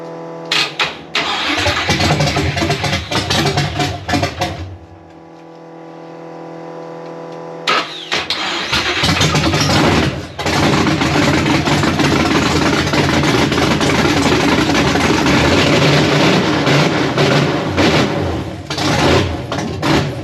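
A long-dormant 1966 Chevy Nova engine, unused for 33 years and struggling to stay running, roars loudly, then drops out for a few seconds. It is cranked back to life and keeps running rough and loud to the end.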